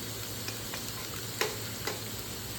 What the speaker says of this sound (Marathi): कांदा गाजर आपण परतून घेत आहोत